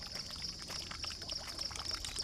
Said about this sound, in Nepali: प्राकृतिक मूलबाट आएको पानी